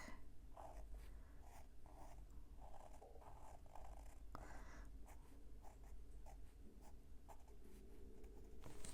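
A Sailor Fude fountain pen scratches quickly across the paper of a Strathmore sketchbook in continuous, close, busy strokes, with soft pauses as the nib lifts between marks.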